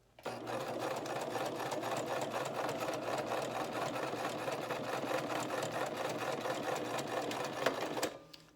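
A sewing machine stitches papers into a vintage pattern Easter junk journal, a rapid steady mechanical clatter running close and alone for about eight seconds.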